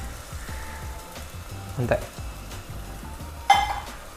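Beaten egg mixture sizzles in hot oil as a utensil scrapes and stirs the pan in a rhythmic pattern, with two sharper clinks standing out, close and fairly quiet.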